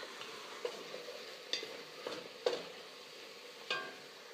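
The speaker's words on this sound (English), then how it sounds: "The vegetables and the tomatoes are sauteed." Vegetables and tomatoes sauté in a pan for a pasta e fagioli, with a soft, steady sizzle broken by several spoon scrapes and stirring clicks, close and fairly quiet with no talk.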